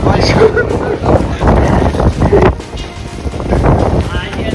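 Strong cyclone wind in Jamnagar roars and gusts loudly against the microphone, with muffled voices faintly beneath the buffeting.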